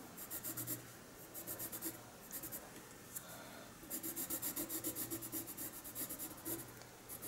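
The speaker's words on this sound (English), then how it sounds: "Want to do a little bit of burnishing on this part, so the very bottom." A colored pencil burnishes paper in rapid rhythmic back-and-forth strokes, soft scratchy rubbing in bursts with short pauses, close and faint, no talk.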